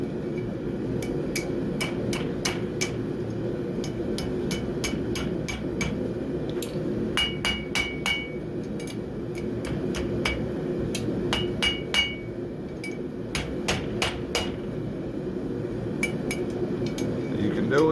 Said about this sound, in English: I'm going to start working the hook in over the horn of the anvil here